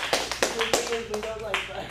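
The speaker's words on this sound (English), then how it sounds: "Let's get a round of applause for Subtitle!" A handful of separate, sharp claps ring out from the audience at an adult improv showcase, scattered under loud voices and cheering.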